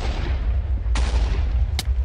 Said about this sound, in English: Firing cannon 3!